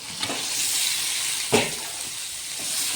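Washed mutton goes into a pan of sizzling onions and tomatoes, giving a loud steady fry hiss with a brief burst of sizzle as the meat lands. No voices are heard.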